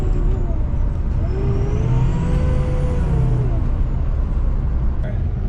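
A Ford F350 Powerstroke diesel engine with a power-steering whine is revved hard up close, a loud rumbling roar carrying a tonal whine that climbs and then eases back.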